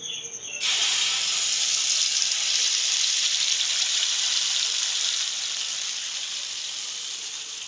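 A sudden loud sizzle as spice paste hits hot oil tempered with whole cumin seeds, settling into a steady, crackling hiss that softens slightly toward the end.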